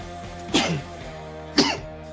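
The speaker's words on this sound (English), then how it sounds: "I'm just sneezing" Two short, sharp sneezes or cough-like bursts from a person, about a second apart, close and fairly loud over a quiet background.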